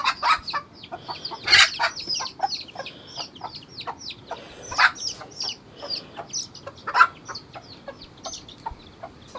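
Hens cluck in a busy farmyard, with a stream of short, irregular clucks and squawks, some louder and nearer, others softer, continuing throughout with no talking.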